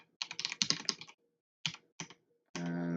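Rapid bursts of keystrokes on a computer keyboard, close and clear, with short pauses between runs and no voices, set during a game-programming session.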